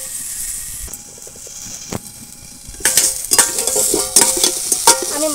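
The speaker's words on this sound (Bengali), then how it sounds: "আলুর সঙ্গে মশলাটা কষাবো, তবে একটু ঢাকা দিয়ে দিয়ে কষাবো।" Potatoes with spices fry in a pan, hissing and sizzling while a utensil stirs and scrapes in irregular bursts, close and loud, with no talking.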